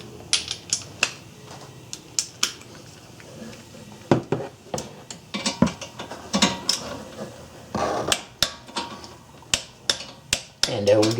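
Ratcheting socket wrench with an extension turning brake caliper bolts on a Ford Escape during front brake pad and rotor work, giving repeated close clicks in uneven bursts with brief pauses.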